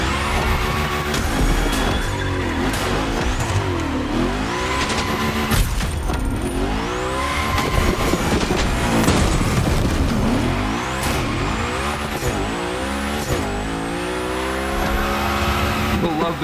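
A car in The Crew Motorfest, the Unicorn, sliding through Gymkhana training, with continuous loud engine revving, shifting pitch and tire squeal throughout as someone talks over it.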